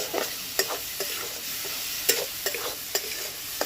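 A spoon stirs a prawn filling for stuffed pointed gourd in a hot pan, with a steady sizzle broken by sharp scraping strokes at irregular intervals, close and clear, with no voices.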